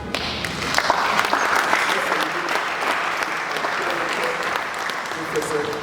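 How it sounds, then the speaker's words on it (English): Audience clapping after the introduction at a professor's valedictory lecture, a full steady round of applause with a voice speaking over it. "Professor Olubunmi Adetoro Otubanjo with another round of applause"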